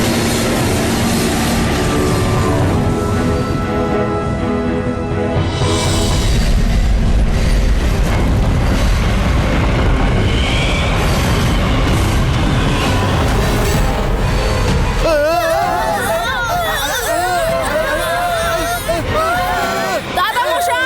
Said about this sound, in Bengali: রুদ্রা, আমার মনে হয় ঘূর্ণিঝড়টা ট্রেনটাকে ঘিরে ফেলেছে।